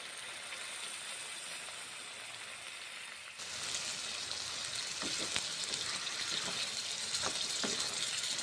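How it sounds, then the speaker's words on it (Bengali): Peas, cauliflower and chhana vada fry in oil in a wok, giving a steady close sizzle that grows louder partway through. A few scraping knocks of stirring come through, with no talk. "নেড়ে চেড়ে নিচ্ছি, কষে নিয়েছি"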